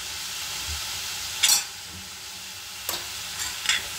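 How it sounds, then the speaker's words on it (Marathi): Vegetables with turmeric sizzle steadily in a hot pan, a broad hiss throughout with a few brief scraping strokes of stirring, close-up and with no voices. "हे अजून एकदा व्यवस्थित मिक्स करून घेऊयात"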